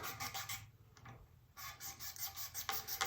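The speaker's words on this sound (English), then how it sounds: "Just put that razor blade on there and go back and forth like that." A razor blade scrapes back and forth over a guitar fretboard, clearing tape residue; close, dry rasping strokes repeat in steady rhythm with a brief quieter gap partway through, and no one speaks.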